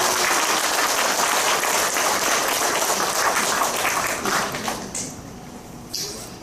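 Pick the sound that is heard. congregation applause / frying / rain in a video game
congregation applause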